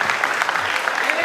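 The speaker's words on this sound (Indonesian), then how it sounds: "Tepuk tangan dong buat Birli." Short burst of clapping for a student named Birli at a school Maulid Nabi celebration, steady and fairly close, with voices mixed into the applause.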